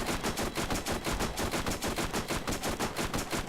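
Rapid automatic SMG fire in the video game Borderlands, a continuous string of close, loud shots in an even rhythm with no pauses and no voices.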